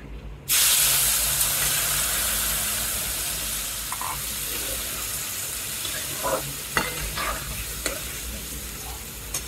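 Soaked jackfruit bulbs hit a hot pan with turmeric and asafoetida, bursting into a loud, steady sizzle that gradually settles, with occasional stirring scrapes and pops near the end.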